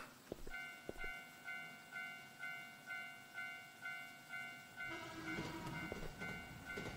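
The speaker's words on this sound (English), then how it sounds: "Oh, that's just the train, bro." A train rolls past in the horror game Teke Teke, rhythmic clacks pulsing every half second under sustained high whining tones, swelling into a louder roaring rush near the end.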